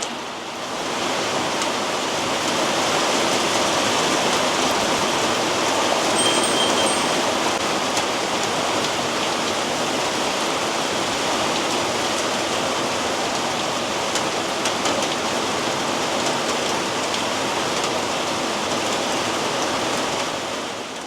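Heavy rain pours steadily onto a Bermuda grass lawn, a dense, continuous hiss that stays loud and even throughout with no voices.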